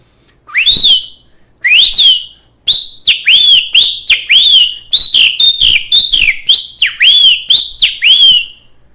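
A man whistles an imitation of the bem-te-vi (great kiskadee) bird call, a loud, close run of about a dozen sharp rising-and-falling phrases with short gaps, and no talking.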